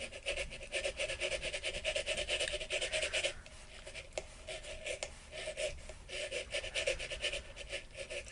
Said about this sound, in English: sometimes you just have to scrape one of the big chunks of glitter off